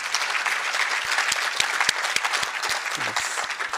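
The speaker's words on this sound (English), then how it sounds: "let's give one big round of applause to our panelists as they take their seats again" Audience at a vice-chancellor's lecture applauding the panelists, steady full-room clapping with a few sharper, nearer claps standing out, lasting several seconds.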